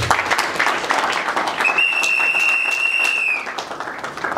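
Applause for a debate moderator, a steady broadband clapping wash filling the whole span with a sustained tone and faint talk over the middle.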